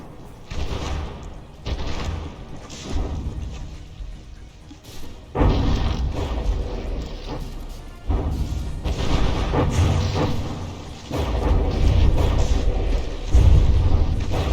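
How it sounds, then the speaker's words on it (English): Gunfire from an APS gun aboard a battleship in a From the Depths tournament naval battle: repeated heavy booming thuds in an irregular, steady rhythm, loud and close, layered over a dense rumbling battle din with no talking. "That APS gun just plugging away"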